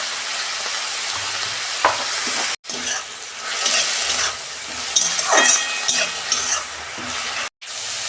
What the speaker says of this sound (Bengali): আমার বাঁধাকপিটা ভাজা হয়ে গেছে